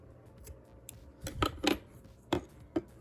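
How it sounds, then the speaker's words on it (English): Scissors snip through a crochet yarn tail, a few quiet crisp cuts spaced unevenly over a few seconds, close by with no talking. "I'm going to take my tail, I'm going to cut it, because this tail doesn't need to be here anymore."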